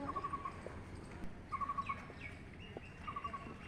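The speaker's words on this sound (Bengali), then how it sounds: "আপাতত পাখির ডাক শুনুন" Birds call in a park in three short bursts of rapid, chirping notes, faint and somewhat distant over a low background hum.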